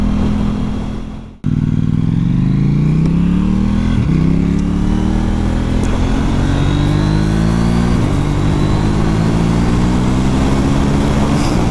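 An Aprilia RS 660 motorcycle engine pulls hard and loud after a brief cut, climbing through the revs in a rising whine with quick gear changes, a close, continuous, buzzing roar.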